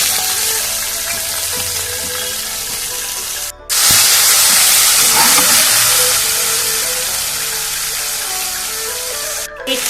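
Soy sauce goes into a hot pan of Manchurian and sets off a loud, dense sizzle that swells sharply partway through and keeps hissing steadily to the end.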